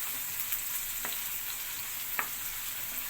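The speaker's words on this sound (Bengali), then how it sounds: "পেঁয়াজটা দিয়ে আমি হালকা বাদামি কালার করে এটা একটু ভেজে নিচ্ছি।" Chopped onions fry in a pan for tripe cooked with potatoes, a steady close sizzle with a few faint stirring scrapes, no talk.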